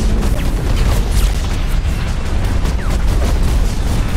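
Heavy rumbling blast from a mech ability in the free-to-play game Hawken, a loud sustained booming roar with crackling debris layered over continuous low battle noise.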